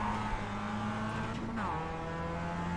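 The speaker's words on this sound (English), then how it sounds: "Drifting!" A race car drifts in iRacing, engine droning loudly throughout with a brief tire squeal and a pitch shift midway as the car slides, close and continuous.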